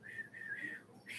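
A preacher imitates whistling with his own voice: a steady, near, moderately loud whistled tone that holds with slight wavers for about a second, alone without speech.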